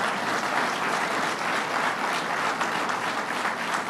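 An audience at the announcement of a $150 million Woodbury interchange road and transit project in the Hudson region claps in a dense, steady burst of applause, loud and sustained throughout without pauses.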